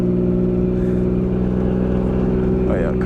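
A turbocharged BMW E36 engine idles and revs steadily with a deep, rumbling drone, loud and close throughout.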